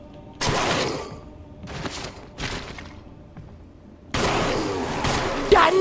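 Gunfire in a Resident Evil game, with several loud bursts of rapid shots separated by short pauses and a long sustained volley near the end, close and dominant.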